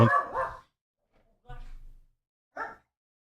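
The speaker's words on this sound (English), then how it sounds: "Lewis has to go bark at the motorcycle" A dog barks at a passing motorcycle: a few short barks in separate bursts, close by with quiet gaps between.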